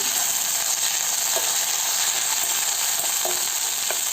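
Green chillies and coriander frying in oil for broken wheat pulav, a dense, even, loud hiss that holds steady throughout with a few faint clicks of a spoon, no speech.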